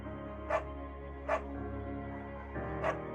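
A beagle in the Firewatch video game barks three times at uneven intervals, each short bark fairly loud and close over a steady low background hum.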